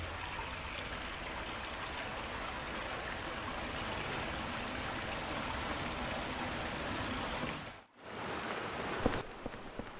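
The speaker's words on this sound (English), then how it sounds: "Look at that water there." Steady rushing water pours continuously after a handle is turned in the Silent Hill 4 game world, a dense close wash of flow that briefly dips near the end before resuming.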